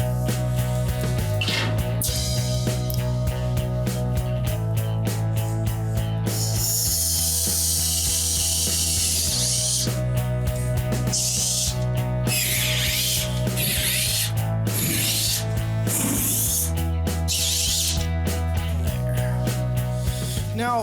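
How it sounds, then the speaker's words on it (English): Set screws being fastened into the trunk floor of a barn-find Super Bee car, with a repeated ratcheting, mechanical whir in short runs and pauses, loud and close throughout. "I'm gonna go through and start putting some set screws in place to hold the rest of the trunk floor in"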